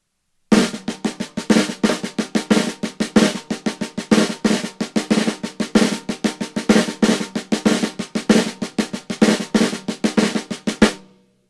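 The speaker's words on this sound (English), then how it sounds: "do a buzz stroke or a close stroke every place that you see the accent" Snare drum practice pattern in which buzz strokes land on the accents, a steady run of sharp, close hits with louder accented strokes for about ten seconds, played alone with no talking.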